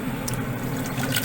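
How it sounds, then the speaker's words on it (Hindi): Rice is tipped into a pot of hot water for sweet zarda, giving a brief, steady rushing splash and bubbling of liquid heard close up, with no talking. "पानी हमारा गर्म हो चुका है। अब हम इसके अंदर चावल ऐड करेंगे।"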